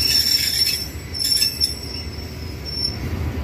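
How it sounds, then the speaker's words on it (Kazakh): A Kyzylorda-Semey passenger train comes into a station, its wheels squealing in a thin, high, sustained tone over a rumbling low roar close by. "Қазір мінекей бірінші жолға Қызылорда-Семей пойыз тоқтады."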